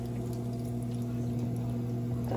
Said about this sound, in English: And it finally drains the water out